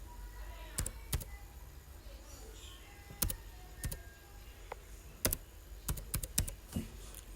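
Computer keyboard typing, quiet and close, in short bursts of sharp clicks separated by pauses over a soft background hiss.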